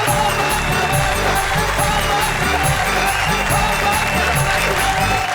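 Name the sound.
audience applause welcoming a performer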